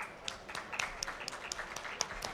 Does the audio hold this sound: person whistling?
no